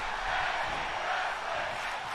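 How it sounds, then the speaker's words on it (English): An arena crowd in the WWE 2K22 wrestling video game chants during a tag team match, a dense, steady roar of many voices filling the whole clip. "the crowd definitely feeling this match as we get a tag team wrestling chant here"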